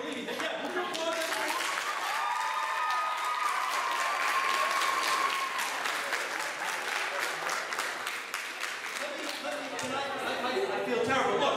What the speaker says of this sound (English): would you applaud them?